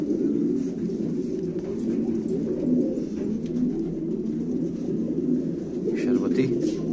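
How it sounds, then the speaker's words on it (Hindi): Low, steady cooing from a flock of fighter pigeons, including sharbati and red pigeons, at a loft in Quetta, continuous and close throughout. "माशाल्लाह अच्छा कबूतर है"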